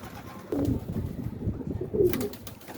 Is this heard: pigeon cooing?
yes